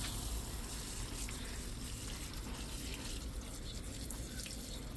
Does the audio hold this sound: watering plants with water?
yes